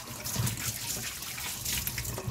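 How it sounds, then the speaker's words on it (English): Warm water runs steadily from a tap during an Afghan Hound's bath, a close, continuous gushing hiss with no talking. "And this is warm water, by the way."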